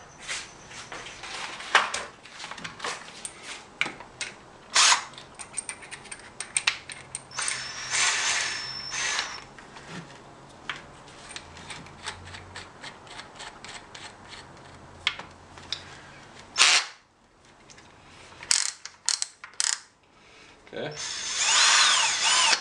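A Hitachi DS18DGL cordless drill runs into a scrap of wood in repeated short bursts of whirring motor and bit noise, with pauses between and varying speed, close and fairly loud, with some talking in between.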